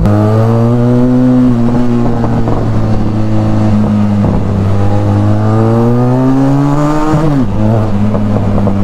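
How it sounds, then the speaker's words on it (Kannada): A Ferrari 458 Italia runs past on a city road with its engine droning loudly and steadily throughout, pitch rising and falling as it accelerates, then dipping sharply near the end as it shifts. "ಹಿಂದೆ ಪೋರ್ಷೆ ಕಯಾನ್ ಹೋಗ್ತದೆ ಇವ್ರದ್ದು, ಮುಂದೆ ನೋಡಿ ಫೆರಾರಿ ಹೋಗ್ತದೆ"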